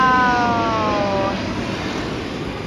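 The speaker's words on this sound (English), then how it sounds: "a jet just took off over us" A jet takes off overhead at Langkawi airport in Malaysia, a loud, close, broad roar with a whining tone that slides downward as the noise slowly fades.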